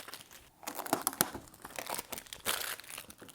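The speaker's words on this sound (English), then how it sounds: "if you like peeling, this one will satisfy you. There's a lot of peeling involved." Protective plastic film is peeled off an Alienware Aurora R15 gaming PC, heard close but faint as a series of crinkling, tearing rips with short pauses between them.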